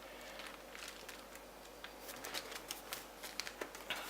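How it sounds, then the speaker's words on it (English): Stiff coffee-stained tracing paper crinkles and rustles up close in quiet, sporadic crackles, growing a bit busier toward the end. "I love the sound of tracing paper after it's been coffee stained."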